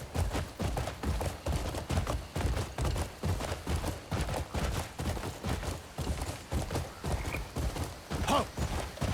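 A horse in the video game Crimson Desert gallops with a steady, quick clip-clop of hooves throughout, close and prominent, with a brief neigh partway through.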